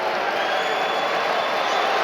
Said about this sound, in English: all that does is fire up the Virginia crowd right behind that bench